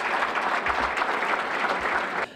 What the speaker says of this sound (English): Now give yourself a hand clap if you can.